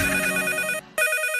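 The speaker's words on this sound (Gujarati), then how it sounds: "ફોન આવ્યો" Telephone ringing during a Gujarati radio comedy segment, a close, bright electronic ring broken by a brief gap between two bursts, with no talking over it.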